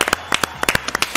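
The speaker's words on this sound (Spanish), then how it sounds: "Aplauso para Juvenal Olmo." A few people clap in a short, sparse burst of distinct hand claps at close range, with no talking over it.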